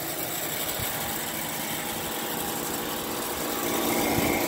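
An Emerson Quiet Kool air conditioner's compressor runs with a steady, close mechanical hum and broadband whir, constant throughout with a slight rise near the end.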